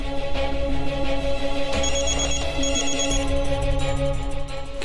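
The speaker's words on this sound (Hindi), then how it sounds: "किसका फोन आ रहा है बार बार?" Phone ringtone playing repeatedly in a home setting, a steady looping melodic tone that runs continuously and fairly loud throughout, with no talk over it.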